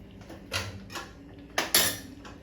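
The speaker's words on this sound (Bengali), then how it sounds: "আমি ঢাকা দিয়ে দিয়ে চিকেনগুলোকে এবার সেদ্ধ করব" Metal clanks and knocks ring out as a lid is set onto a pot of fried chicken for butter chicken, with a few separate bursts of clatter over a low kitchen hum.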